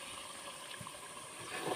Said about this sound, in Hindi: अब भी मैं इनमें थोड़ा थोड़ा पानी ऐड करती जा रही हूँ।